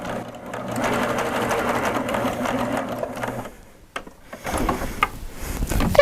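A Baby Lock Applaud sewing machine stitches a scrap of fabric, giving a close, steady mechanical whir for about three seconds before stopping, followed by fabric handling and clicks.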